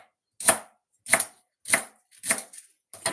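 Knife chopping leeks on a cutting board in a home kitchen, five crisp, evenly spaced chops about half a second apart, close and distinct against near silence.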